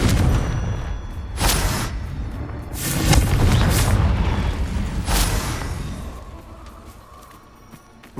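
Loud booming spell blasts and explosive bursts from combat in the video game Hogwarts Legacy, several heavy impacts in quick succession with rumbling tails that fade toward the end.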